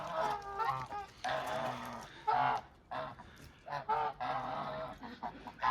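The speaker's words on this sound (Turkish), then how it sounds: "Kazlar burada arkadaşlar." Geese honk repeatedly and loudly close by, overlapping calls coming in uneven bursts with short gaps between them.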